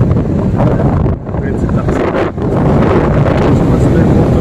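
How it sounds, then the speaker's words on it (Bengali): Strong wind buffets the microphone in a steady, loud roar throughout a motorbike ride along the beach at Kuakata, with only brief dips in the gusting. "প্রচুর বাতাস পাওয়া যায়"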